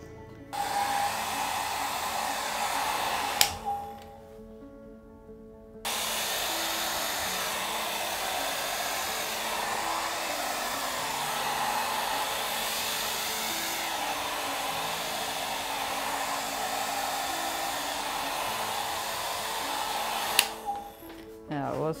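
A hair dryer blasts loudly to push white paint across a bottle, running in a long steady roar after a brief first burst and pause, then cutting off near the end.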